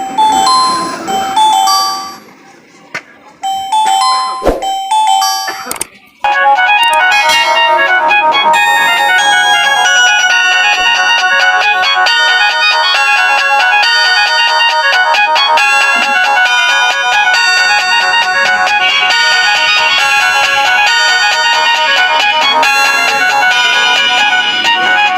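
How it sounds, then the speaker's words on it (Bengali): A Symphony button feature phone plays its ringtone loudly: a bright, steady electronic melody with dense tones runs for about twenty seconds after a few brief rustles and taps at the start. "আপনার রিংটোনটা একটু আপনাদের শোনাবো যে এই ফোনটির রিংটোনটা কেমন ছিল"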